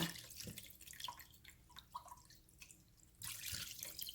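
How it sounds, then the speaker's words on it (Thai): Boiled fermented fish sauce liquid is strained, giving faint dripping and trickling with soft splashes, quiet and close, with a slightly louder pour near the end and no speech. "เดี๋ยวเขาจะกรองเอาแต่น้ำเนาะค่ะ"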